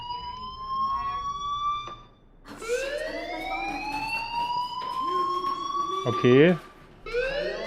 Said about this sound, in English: hear that fire alarm? That means you should be outside.